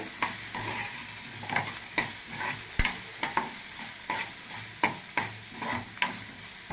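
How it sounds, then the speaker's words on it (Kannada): Ridge gourd peel frying in a pan for chutney: a low sizzle under regular scraping stirs about twice a second, close and moderately loud, with no talking. "ಹಸಿ ವಾಸನೆ ಹೋಗೋಷ್ಟು ಫ್ರೈ ಮಾಡ್ಕೊಂಡ್ರೆ ಸಾಕಾಗುತ್ತೆ"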